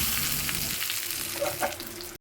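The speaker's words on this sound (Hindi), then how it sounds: "अब लगेगा सांभर में तड़का।" Tempering spices for sambar sizzle in hot oil with a steady, hissing fry, moderately faint and alone, with a couple of small stirring knocks near the end.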